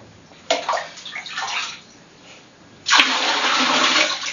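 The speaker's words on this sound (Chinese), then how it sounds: "这些冷水怎么办呢？ 我会拿来冲马桶。" A toilet flushed with cold water saved from a shower while waiting for it to heat up: a loud, close rush of water bursts in about two-thirds of the way through and keeps roaring steadily, after a quieter stretch of household sounds.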